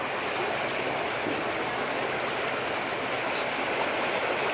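Treated water gushes forcefully out of a sewage treatment plant outlet in a loud, dense, unbroken roar that stays constant the whole time, with no talking.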